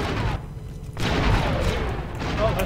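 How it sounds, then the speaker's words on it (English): A grenade explodes in Star Wars: Republic Commando as a loud, close, broadband blast that rings out about a second in, amid continuous game noise and other gunfire-like bursts. "Oh, I threw a nade."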